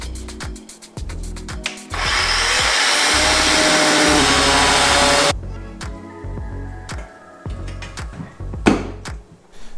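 A chainsaw motor drones loudly and steadily for a few seconds, cutting through wood, framed by clunks, rattles and knocks before and after.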